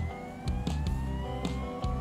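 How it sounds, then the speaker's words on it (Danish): Emergency vehicle sirens in the video game GTA V with the LSPDFR mod give a steady rising wail over a rumbling engine, with a few short horn-like bursts, loud and close and without talk. "sådan så at de kan høre, at nu kommer der altså et par udrykningskøretøjer eller flere"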